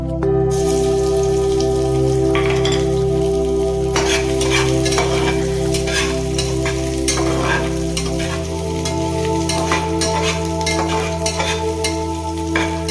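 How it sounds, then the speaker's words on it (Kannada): Ginger-garlic paste sizzles and fries steadily in a hot pan for a chicken sambar, with repeated stirring scrapes and crackling spatter heard close and loud throughout, no voices. "ಅದಕ್ಕೋಸ್ಕರ ನಾನು ಇಟ್ಟಿರ್ತಕ್ಕಂಥ ಅಲ್ಲ ಬೆಳ್ಳುಳ್ಳಿ ಪೇಸ್ಟ್ ಹಾಕ್ತಾಯಿದ್ದೀನಿ"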